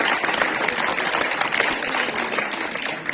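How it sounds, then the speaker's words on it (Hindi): Students at Model Higher Secondary School Saujiyan, Poonch, at a Diwali rangoli celebration give themselves a loud round of applause, dense continuous clapping that stays strong and tapers slightly at the end. "अपने लिए जोरदार तालियां दें।"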